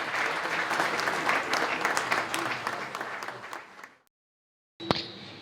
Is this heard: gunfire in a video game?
no